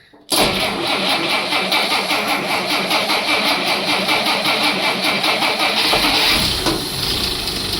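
An old vehicle engine, back on the road after 50 years, cranks and catches abruptly, then runs at a steady, loud, rough idle with a rhythmic pulse, dipping slightly near the end.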